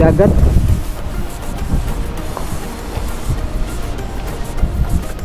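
Steady low wind rumble buffeting the microphone, with a heavier gust at the start and muffled background noise throughout, at a seaside beach resort with an infinity pool.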